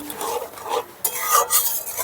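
Sugar stirred into a semolina and carrot filling in a hot pan, producing close, gritty scraping strokes over a light sizzle, continuous for a couple of seconds with a short pause midway.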